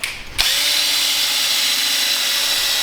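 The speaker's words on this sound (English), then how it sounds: "will you pre-drill 2 holes right there?" A power drill pre-drills holes in wood for a goat milking stand: a brief start-up burst, then a loud, steady high whine held close up for the rest of the moment.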